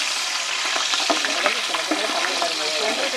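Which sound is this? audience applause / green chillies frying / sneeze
green chillies frying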